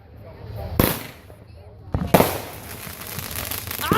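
Fourth of July fireworks going off close by, two sharp loud bangs followed by crackling bursts, with people cheering and talking around them.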